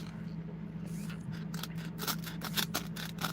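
Knife cutting through a piece of old foam during hat sculpting, a series of short crisp slicing and snipping sounds over a steady low hum, close and moderately quiet.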